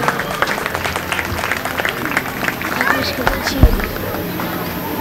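Steady applause from a crowd for a clear round at an equestrian show jumping event mixes with a busy outdoor din and an announcer's voice speaking over it throughout.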